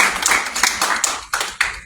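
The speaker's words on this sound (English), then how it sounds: "Will you please take a moment and give yourselves a round of applause?" Fire department cadets clap for themselves, a loud, close burst of hand claps in an uneven rhythm with a few sharp individual claps and brief gaps.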